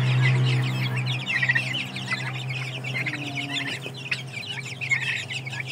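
Several turkeys gobble and cluck in rapid bursts, fairly close, over a steady low hum, with no voices.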